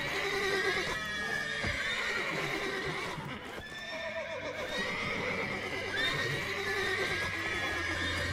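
A horse in The Witcher video game whinnies repeatedly over clip-clopping hooves, moderately faint and steady throughout.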